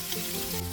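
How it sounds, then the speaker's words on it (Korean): Mackerel laid skin side down in hot oil over medium heat, frying in a pan with a brief, steady crackling sizzle. "기름이 달아오르면 중불로 하고 고등어는 껍질 부분부터 올려줍니다."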